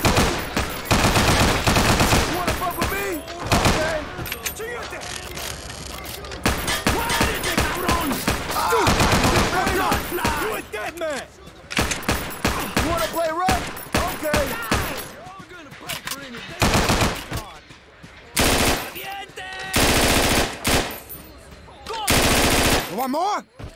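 Machine gun fire rattles in long, loud automatic bursts during Scarface: The World Is Yours gameplay, with short pauses between volleys and shouting voices in between.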